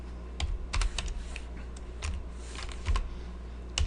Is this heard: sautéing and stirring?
no